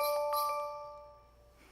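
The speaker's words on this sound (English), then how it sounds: "let's ring our sleigh bells" Sleigh bells are rung in an early childhood Christmas lesson, giving a short, bright jingling shake that rings out at the start and then fades away over a second or so, with no talking.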